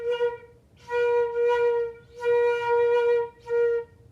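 A breathy flute tone wavers and breaks, sounding in uneven bursts that cut out and restart, its pitch steady but its air wobbling; close and alone.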